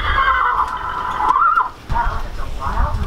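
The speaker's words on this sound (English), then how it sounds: "This is the sound of the wild horse." A wild horse gives a loud, close neigh, a shrill wavering whinny lasting over a second, followed by shorter snorting calls.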